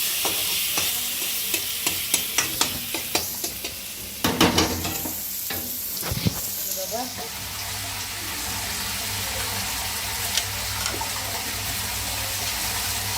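Tomatoes cook in a pan for a village-style fish curry, with a steady sizzle under repeated scraping and clicking of a spoon stirring them, plus a few louder knocks against the pan.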